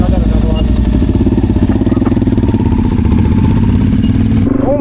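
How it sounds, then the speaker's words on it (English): A motorcycle engine runs roughly, its uneven, lumpy chugging pulsing loud and close throughout, with a slight rise in revs near the end and no talk over it. "The bike's not sounding very good, is it?"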